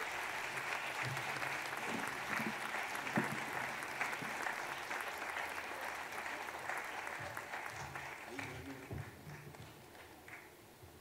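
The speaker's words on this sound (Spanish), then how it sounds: "Vamos, un aplauso para Francisco." Audience applause at a night of improvised verse, steady clapping from a crowd that carries through the whole stretch and slowly fades toward the end, with no talk over it.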